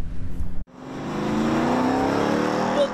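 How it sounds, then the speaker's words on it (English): Car engines revving hard as drivers drag race along Woodward Avenue in Royal Oak: a short burst, a sudden cut, then a loud sustained roar building steadily nearby. "The constant revving of engines up and down Woodward Avenue."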